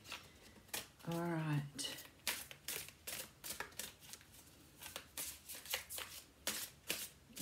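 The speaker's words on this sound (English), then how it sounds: "Really nice cards, so easy to shuffle, a little slippery, but they're really nice" A deck of tarot cards is shuffled by hand close to the microphone, with rapid, repeated riffling bursts in a steady rhythm and a brief spoken remark partway through.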